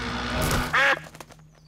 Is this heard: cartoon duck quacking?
yes